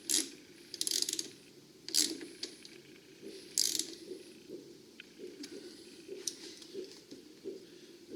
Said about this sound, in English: got to find the right wrench to tighten that up